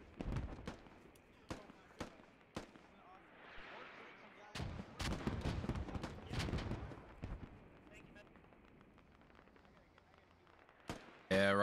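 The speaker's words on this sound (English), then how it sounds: "Enemy indirect fire hitting our position." Indirect artillery fire landing on a position in the video game Squad: a series of sharp, booming blasts, some close and loud, others distant, with rumbling debris and voices over radio between impacts.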